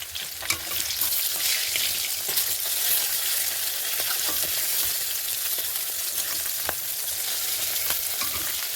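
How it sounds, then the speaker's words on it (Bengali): Pieces of fish frying in oil in a wok give a steady, loud sizzle from start to finish. Faint clicks and stirring scrapes sit on top, and no one speaks. "কড়াইতে মাছগুলি দিয়ে দিচ্ছি। এখন এই মাছ এক একটা করে ভেজে নেব।"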